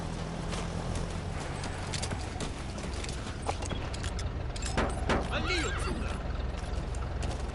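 A horse in the Metal Gear Solid 5 game whinnies and its hooves clop amid a steady background game soundscape, the neigh rising clearly near the end.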